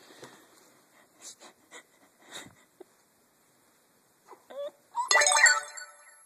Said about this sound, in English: That was just Mommy's phone getting a message.